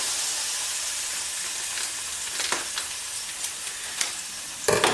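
Noodles sizzle in a dry pan with no oil: a steady, close hiss, broken by a few light stirring scrapes, then a louder burst at the end.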